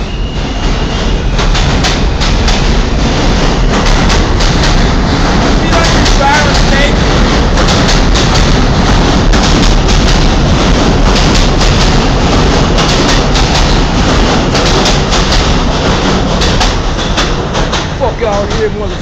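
An R160B subway car on the F line pulls out of Ditmas Avenue station in a loud, continuous roar of wheels and motors, with rhythmic rail clatter throughout and some voices in the background.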